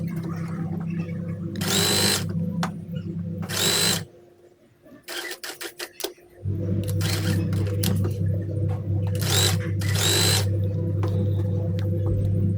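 Sewing machine stitching frilled fabric onto a table cover, a steady mechanical whir running in long stretches, stopping briefly for a few clicks and handling noises before starting again, close and loud.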